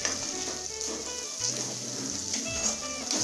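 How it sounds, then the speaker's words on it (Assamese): Spice masala for restaurant-style matar paneer gravy sizzles and fries in a pan, a steady close hiss with faint stirring and a soft tonal hum underneath, without any talking. "মছলাখিনি এতিয়া ভালদৰে ভাজি ল'ব,"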